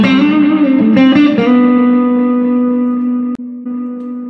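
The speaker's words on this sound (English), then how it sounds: "with the amount of repeats I have in there, it kind of acts as a reverb in a way." An electric guitar chord rings out through a delay effect, its repeats smearing into a long, reverb-like tail before a sharp click cuts in.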